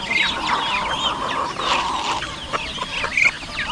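Chickens cluck steadily near a pig pen, pecking at spilled feed on a concrete floor, with overlapping calls and a few sharper squawks, close by, over a busy farmyard background and no talking.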